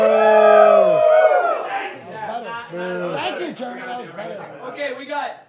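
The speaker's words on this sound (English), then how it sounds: "That was a respectful cheer." Crowd cheering and whooping at a VeeFriends trading card box break at New York Comic Con 2023, loud and sustained, with voices rising in pitch then trailing into scattered chatter and laughter.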